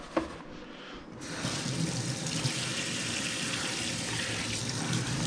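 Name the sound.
tap water running while rinsing a hand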